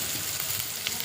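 Potatoes and green chillies frying in a pan for poha are stirred through, giving a dense, even sizzle that runs without pause for about a second, close and fairly loud.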